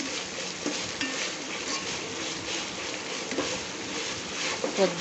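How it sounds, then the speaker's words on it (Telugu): Mushroom biryani is stirred in a pot just after ginger garlic paste goes in, with soft scraping and a low sizzle running through the clip and faint background voices at points. "ఇట్లా మంచిగా కలుపుకుంటూనే ఉండాలి అల్లం వెల్లుల్లి పేస్ట్ వేసిన తర్వాత, లేకుంటే కింద అడుగు అంటుతుంది"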